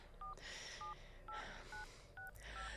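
Telephone keypad dialing tones, a string of about six short, evenly spaced DTMF beeps over a low steady background hum, heard close and clear.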